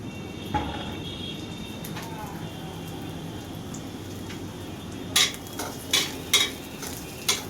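Food frying in a pan during preparation of a Bengali spinach curry with potato, tomato, ginger and garlic: a steady soft sizzle, then a burst of spatula scrapes and pan clatter in the last couple of seconds.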